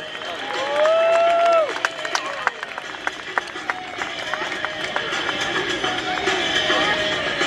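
Outdoor crowd at a military open house clapping and cheering for a US Army Golden Knights parachute jumper carrying the Maryland flag, a swell of applause heard with a voice over a public address system and steady open-air crowd noise.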